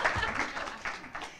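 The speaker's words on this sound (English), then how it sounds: "Clap for them one more time" Audience applause at a graduate stole ceremony as staff members stand to be recognized: a short burst of dense, steady clapping from a room full of people.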